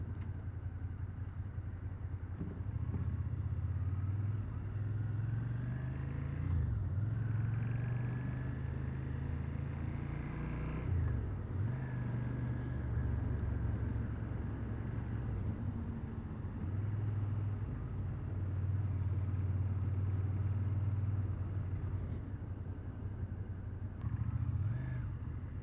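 A Suzuki motorcycle rides through the streets of Fuengirola in Spain, its engine a steady, close rumble that rises and falls with changes in throttle and gear across the whole stretch.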